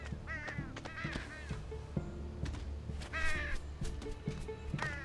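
Crows caw in the video game Unravel, a string of harsh calls in repeated bursts over a low, steady game soundscape, with faint speech-like sounds mixed in.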